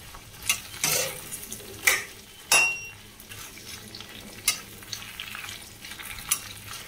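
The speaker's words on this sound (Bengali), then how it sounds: "দেখুন ঢ্যাঁড়সটা ভাজা হচ্ছে, এর মধ্যে আমি দিয়ে দিলাম আন্দাজ মতো নুন।" Okra frying in a pan while being stirred: a steady low sizzle with several sharp scraping clacks of the spatula against the pan, close up.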